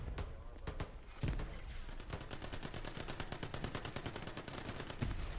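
Rapid gunfire from the World War II shooter Hell Let Loose, with a steady run of sharp automatic shots and a few heavier single reports, loud and close throughout with no talk over it.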